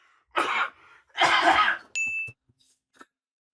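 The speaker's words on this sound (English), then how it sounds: "Oh, they're back to that coughing." Two harsh, noisy coughs, the second longer and heavier, followed by a short burst with a high electronic beep and a few faint clicks.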